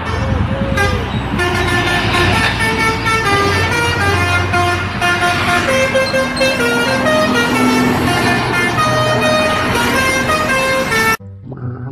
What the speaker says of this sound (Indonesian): Kali ini ada bus Sugeng Rahayu teman-teman.